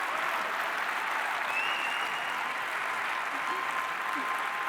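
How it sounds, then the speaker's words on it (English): Sustained, dense applause from a large audience at a startup competition finals, an even wash of clapping holding steady throughout without pauses. "I'm asking for another loud round of applause"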